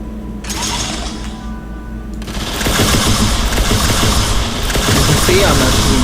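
Rapid automatic gunfire in a video game, loud and dense, with sustained bursts of rattling shots growing heavier partway through and continuing to the end.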